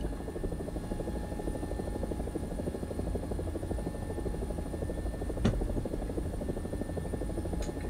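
An AB 205 helicopter flies in a video game, its rotor giving a steady, loud, rapid thumping drone that holds throughout, with one brief sharp click partway through and no talk.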